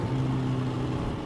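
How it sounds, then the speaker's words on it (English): Motorcycle engine recorded from a voice recorder tucked under the seat while riding, a steady low droning hum with a constant note, fairly faint and alone, no talk. "my voice recorder is underneath the seat, recording the engine audio"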